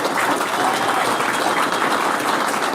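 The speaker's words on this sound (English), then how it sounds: "So please give them a round of applause." A room of people at a city council meeting applauds, a loud, continuous wash of clapping from many hands that holds steady from start to finish with no pauses.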